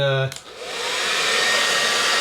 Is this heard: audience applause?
no